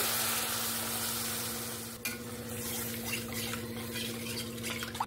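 Mustard masala for Bengali shorshe ilish is stirred in a pan after water is added, giving a soft continuous sizzle with wet scraping strokes and a sharper clatter near the middle, close and steady, with no talking.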